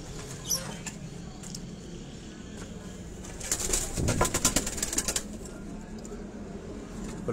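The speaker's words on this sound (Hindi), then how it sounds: "कबूतर फड़ मारता है" Pigeons flapping their wings in a coop-like enclosure, with a burst of rapid fluttering wingbeats in the middle, set against a steady background hiss, soft cooing and occasional knocks.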